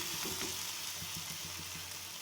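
Thin neer dosa rice batter fries on a pan, giving a faint, steady sizzle with soft crackles throughout.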